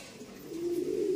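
A racing pigeon coos after landing at its loft, a steady low throaty call that swells and holds near the end, close and clear against quiet surroundings.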